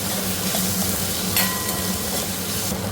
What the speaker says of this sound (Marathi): त्याच्यामध्ये मी कढीपत्ता पण टाकला। कांदा एक फ्राय करून घेते।